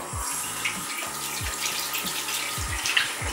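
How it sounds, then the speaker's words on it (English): Warm tap water runs steadily from a faucet as a face is rinsed, with close splashing and sloshing of hands over the flowing stream. "And then I'm just going to rinse this off with just like warm water."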